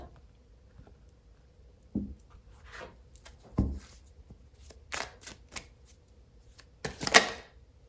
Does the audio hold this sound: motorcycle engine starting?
no